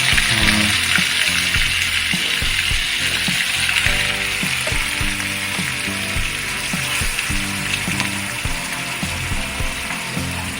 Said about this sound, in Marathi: कांदा परतून घेणार